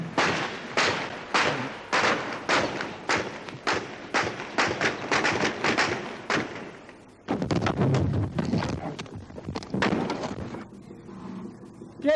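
Gunfire cracks through a city during a coup, a long run of sharp, evenly spaced loud shots, then a short pause before more rapid bursts and scattered shots, reverberating off surroundings.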